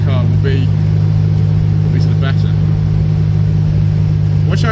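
A 1968 MG Midget Mark III with a 4-speed gearbox cruises at about 45 mph, its steady engine drone and low road rumble filling the cabin continuously, loud and close.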